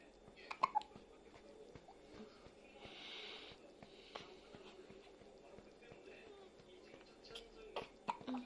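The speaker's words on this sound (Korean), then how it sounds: "딸꾹질 맞았네." A 10-day-old newborn hiccups in several short, sharp catches spread irregularly through the stretch, faint and close against low background noise.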